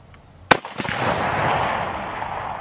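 A CZ527 rifle chambered in 7.62x39 fires a single sharp shot at a shooting range, followed by a longer rolling echo that fades over a couple of seconds.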